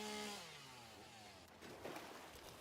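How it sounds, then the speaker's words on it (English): A chainsaw cuts through an obstacle in a video game, a steady buzzing engine whine that holds loud and close for a couple of seconds with no talking over it. "Let's chainsaw this out of the way."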